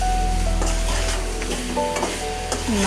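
Spices stir-fried with sea fish and pumpkin hiss in a steady, loud sizzle, broken by repeated scrapes and clacks of a spatula turning the mixture, with no voices.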